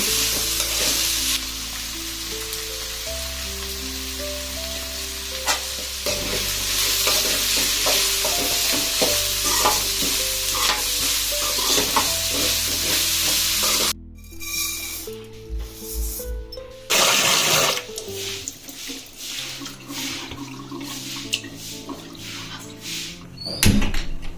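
Green peas frying and being stirred in a pan, a steady loud sizzle with repeated scraping strokes, a brief quieter break midway before the sizzling and stirring resume.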